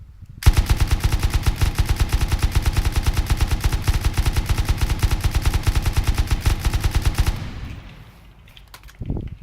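Automatic gunfire in the video game Rust with a muzzle boost fitted, fired at close range as a long, rapid, loud burst of evenly spaced shots that stops after about seven seconds, followed by a brief clatter.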